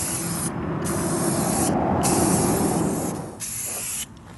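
Spray can laying down a final clear coat on a Wheel Horse garden tractor part under restoration, a loud, steady hiss in several long bursts with brief gaps between them, close by and without speech.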